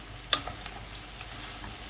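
Chopped vegetables, including onion and peppers, sizzle steadily in a hot pan, a soft continuous frying hiss with a single scrape of a utensil near the start.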